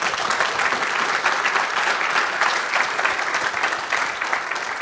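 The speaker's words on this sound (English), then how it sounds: "I think that requires a round of applause," An audience at a conservation technology conference claps, a dense, loud, sustained applause that fills the room evenly for about five seconds.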